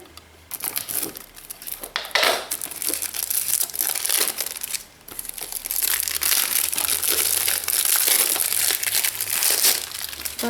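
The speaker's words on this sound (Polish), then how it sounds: "E, tutaj zobaczymy sobie jeszcze DVD Boxa. Otwieramy." The packaged DVD box from a Layers of Fear collector's edition gets opened, giving loud, close crinkling and crumpling of plastic wrap in bursts, with a brief pause midway.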